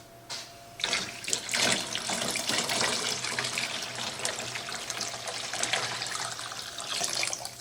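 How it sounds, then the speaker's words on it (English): Tap water runs steadily into a pot being refilled during turkey canning, a loud continuous splashing rush that starts after a brief pause and fills the rest of the stretch with no talking. "So I'm going to fill this back up with water"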